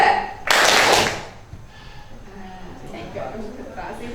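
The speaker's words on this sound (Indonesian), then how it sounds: "Tepuk tangan 2. Tepuk tangan 1. Tepuk tangan 3." Hand clapping in a classroom concentration exercise, a short burst of group claps near the start that fades out, followed by a teacher's voice speaking over a quieter background.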